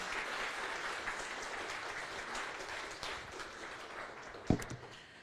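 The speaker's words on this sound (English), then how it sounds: "Let's give her a huge round of applause" Sustained audience applause for a presenter stepping off stage, a steady wash of many hands clapping at moderate distance, with a brief louder burst near the end.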